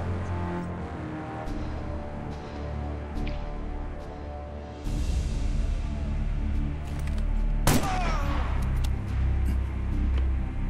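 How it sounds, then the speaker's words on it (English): A single sharp gunshot in Assassin's Creed Chronicles Russia, fired to shoot out a light, cracks out once near the middle of a steady bed of game ambience and low music. "Shooting out that light would get his attention."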